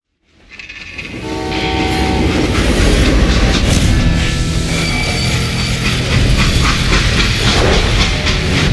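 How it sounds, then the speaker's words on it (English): A freight train from the video game Call of Juarez Gunslinger rumbles steadily and loudly after a quick swell, with clattering wheels and a horn-like tone riding over the continuous roar, no voices. "They hopped a freight train,"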